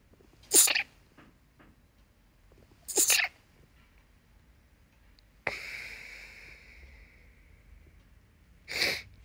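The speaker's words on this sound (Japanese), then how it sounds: "くしゃみした。" Several short, sharp sneezes burst out separately against a quiet room. One more drawn-out, breathy sound sits between them.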